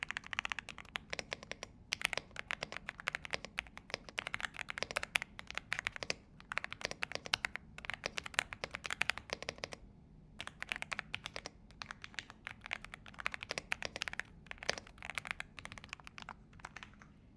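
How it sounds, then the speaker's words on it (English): Clicky mechanical keyboard typing, close and steady, in fast bursts of crisp key clicks with a short pause midway, with no voice over it. "my live reaction to hearing the clicks for the first time"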